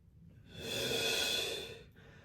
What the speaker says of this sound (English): Take a full breath or a half breath